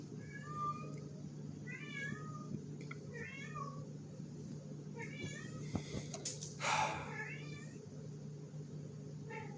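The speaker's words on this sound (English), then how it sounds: "I just have to deal with the kitty cats." Several cats meow repeatedly in short, plaintive calls over a low steady hum, with a brief rustling clatter partway through.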